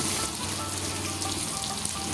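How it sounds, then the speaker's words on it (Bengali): Potatoes fry in hot oil with turmeric and salt, a steady, close crackling sizzle that continues throughout. "তেলের ভিতরেই আমি দিয়ে দেব কেটে রাখা আলুগুলো আমি ভেজে নেব"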